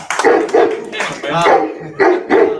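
A man imitates a dog's barking with his voice, giving several short woofs in bursts across a couple of seconds, close and loud, amid a podcast interview setting.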